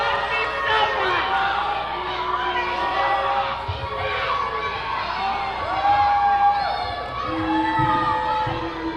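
Wrestling arena crowd at a women's match, with a steady roar of cheering, whoops and chatter filling the space throughout.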